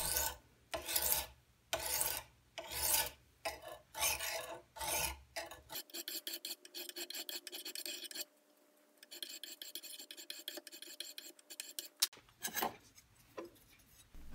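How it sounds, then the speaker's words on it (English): An old sharpening stone is drawn over the blades of rusty WORTH grass shears in close, rasping strokes, first as several separate rubs and then as a longer, steadier grinding stretch with a short break before it resumes. "Now I'm going to spend a little time with some preliminary sharpening of the blades."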